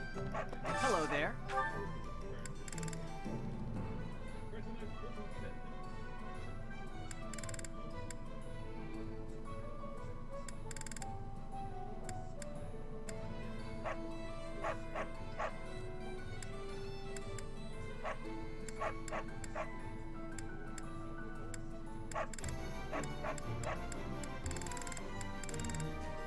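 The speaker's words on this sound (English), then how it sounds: "Calm down there, freaking dog." A dog in the video game Fire Emblem Three Houses barks and yips in short repeated bursts, with some whimpering, alongside game music, interface ticks and someone talking over it.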